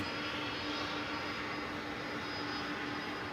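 A Boeing Dreamliner bound for Sydney is at Dallas Fort Worth airport, a faint, distant and steady jet engine hum with a thin whine held throughout, no voices.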